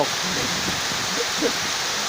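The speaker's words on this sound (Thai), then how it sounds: "ฟ้ามาฝนมาครับผมตอนนี้ ลมแรงมากเลยครับ" Steady rain with strong wind, a continuous broad hiss and rush of rainfall and gusting air, with occasional faint thuds and a trace of a voice.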